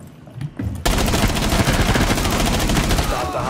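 Rapid automatic gunfire blasts a wall in Rainbow Six Siege, a dense, loud burst of closely spaced shots starting abruptly after a short quieter lead-in.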